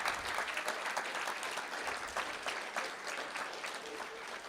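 Audience members at a school board meeting give a round of applause, a fairly quiet, even patter of many hands clapping continuously throughout.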